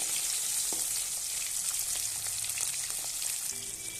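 A strong, even sizzle of hilsa fish frying in oil fills the clip, with an occasional soft tap from a utensil as it is turned.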